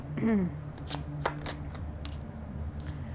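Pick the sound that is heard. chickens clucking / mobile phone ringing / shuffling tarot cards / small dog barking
shuffling tarot cards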